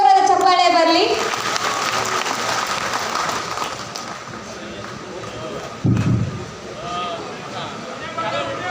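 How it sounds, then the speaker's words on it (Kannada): Loud applause from an audience at a Karnataka state government ration dealers' association event, a broad steady clapping wash that follows a brief voice and swells again near the end with a thump. "ಮತ್ತೊಮ್ಮೆ ಜೋರಾದ ಚಪ್ಪಾಳೆ ಬರಲಿ"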